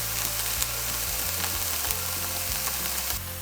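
Vegetables fry in a pan on a camper stove, a steady close sizzle with faint crackles and soft clinks throughout, alone without voices.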